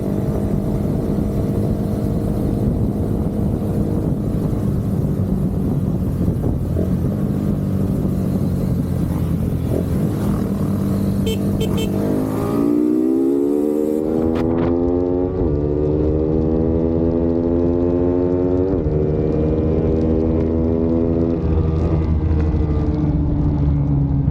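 A Suzuki Raider F.I motorcycle engine drones loudly and steadily, then revs hard at full throttle with its pitch climbing and holding high near the end.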